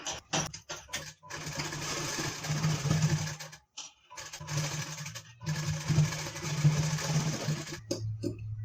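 A sewing machine stitches a blouse for a wedding sari, running in bursts of rapid mechanical whirring with a steady hum, stopping briefly several times between runs, close and fairly loud.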